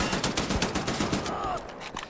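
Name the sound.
machine gun fire in the video game Wolfenstein: The New Order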